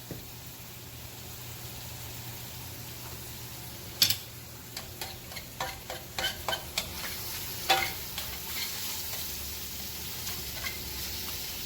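Shrimp and zucchini cook in a pan with a low, steady sizzle, joined midway by a run of sharp clicks and taps from a utensil stirring against the pan.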